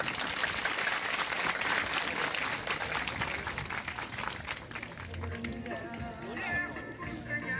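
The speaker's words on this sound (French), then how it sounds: "Merci Max pour vos applaudissements s'il vous plaît" Audience applause at a school project launch day, dense continuous clapping filling the space throughout, with faint voices mixed in toward the end.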